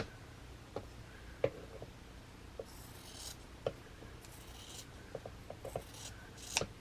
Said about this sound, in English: I'm going to cut on the line so you don't cut your stitching.